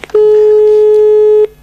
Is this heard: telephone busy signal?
yes